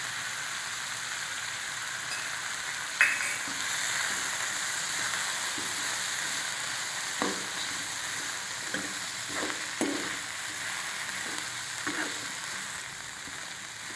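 Ginger garlic paste frying in a pan for ivy gourd (tondli) bhaji, a steady close sizzle with a few sharp spatters and light stirring scrapes, no talking.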